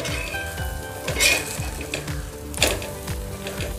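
Pearl millet pancake frying in a little oil over low heat, a steady sizzle with clinks and scrapes of a spatula against the pan as it is turned, no talking.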